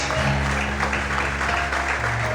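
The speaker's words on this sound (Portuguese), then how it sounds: "aplauda e exalte o nome dele bem forte nesta manhã" A church congregation applauds during a morning service, a dense wash of clapping with a low organ-like tone sustained underneath.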